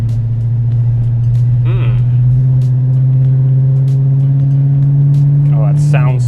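A supercharged 2010 Dodge Challenger engine holds a loud, steady low idle rumble up close, with a brief blip late on and faint voices over it.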